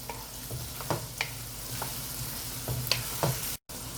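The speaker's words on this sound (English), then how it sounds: "Stir it up." Ginger garlic paste is stirred in a hot pan over a low, constant sizzle, with several distinct scraping strokes of a spoon against the pan spread across a few seconds and a brief dropout near the end.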